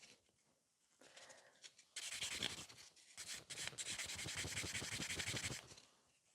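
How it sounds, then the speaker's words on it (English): A 100/180 grit nail buffer rubs across a fingernail, making quiet, rapid, scratchy back-and-forth strokes that come in close bursts and grow louder midway. "I'm using the buffer 100 by 100, 100 by 180 grit."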